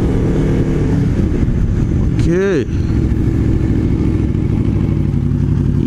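An Aprilia RSV4 sport bike engine drones steadily while riding in traffic, with a brief rising-and-falling rev sweep partway through and a single short spoken word near it.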